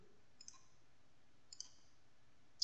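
A computer mouse clicks in 3D modelling software: pairs of small, light clicks spaced apart, then a sharper final click, close and quiet against a faint background hum.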